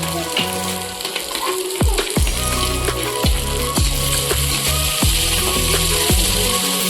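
Steady sizzling of rice frying with peas in a pan, with repeated scraping and clinking of a spatula against the metal throughout. No talking.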